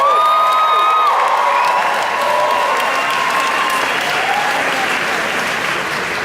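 Dense, sustained applause from a theater concert audience at a show at the Saenger Theater in New Orleans, loud and steady throughout with faint cheers mixed in.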